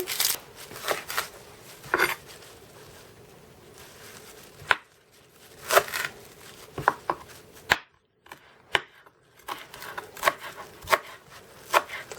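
A knife chops onions on a board for a smoked-meat cabbage soup, sharp close thuds that come irregularly in short runs and single strikes with brief pauses between them.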